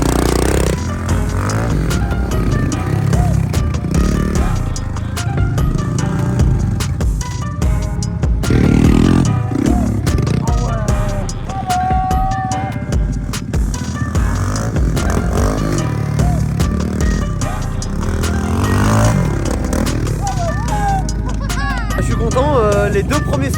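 Dirt bike riding on a motocross line with freshly built jumps, engine revving and surging loudly and continuously with clatter and rattling, close to the microphone, music-like noise throughout.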